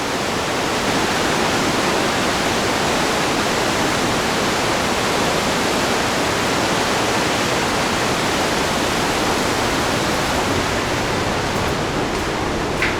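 Rushing water pours continuously and steadily through small waterfalls in Partnach Gorge, Germany, a broad, even hiss of small cascades close by with no voices over it.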